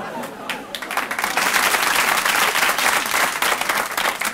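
A theater audience at a stand-up comedy show breaks into sustained applause, dense and loud with scattered whoops, building and holding steady throughout.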